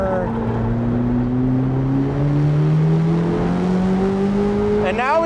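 A 2025 Corvette ZR1 accelerates hard out of a sharp turn at Daytona, its engine note climbing steadily and loudly from the cabin with continuous rising revs, then a brief gear change near the end.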